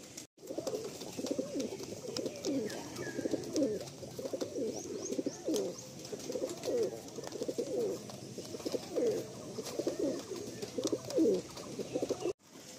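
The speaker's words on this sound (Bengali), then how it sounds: "যে পায়রা ওড়ে সেই পায়রাই ভালো লাগে, এইসব পায়রা হেভি ওড়ে" Pigeons coo steadily in a loft at Barasat, a dense chorus of overlapping low, throaty rolling calls close by, with a few fainter chirps above and no talking.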